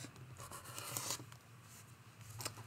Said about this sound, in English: We're going to cut it in half on the diagonal